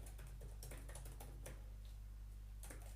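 Rapid, uneven clicking of keys on a computer keyboard fills the clip, close and steady with bursts of quicker taps over a constant low electrical hum.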